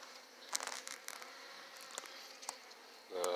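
Bees buzz around old comb frames pulled from an abandoned hive, a faint steady hum with a few brief closer passes and a louder buzz at the end.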